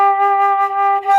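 A flute holds a clear, steady G, gently tongued into four short pulses on one breath, with no talk.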